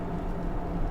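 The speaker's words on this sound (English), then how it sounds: "Most what you hear is actually the tire noise." Steady low rumble of tire noise on the road heard from inside a 2022 Mercedes EQS 450+ electric car on a night drive, even and continuous with no other sounds.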